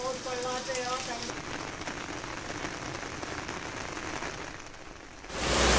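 Heavy monsoon rain pours down in Maharashtra as a dense, continuous hiss of drops striking surfaces, briefly overlapped at the start by faint tonal sounds and ending in a sudden louder rush.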